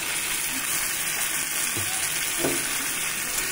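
Ground spice paste sizzling in hot oil in a pan while cooking fish curry, a steady, loud frying hiss with a couple of brief stirring scrapes and a splash near the middle, and no voices.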